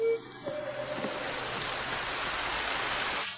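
Rain falls outside a home, a steady, even hiss of drops that rises after a brief tonal sound at the start and holds at moderate loudness without talk.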